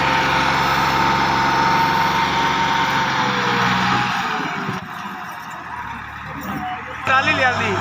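Tractor engine hauling a loaded 16-foot trolley up a steep climb, a loud steady rumble that fades toward the end, with someone talking over it throughout.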